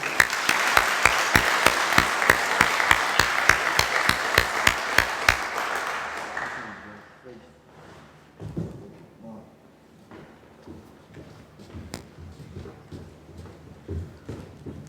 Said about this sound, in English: Please give a round of applause for Delta Company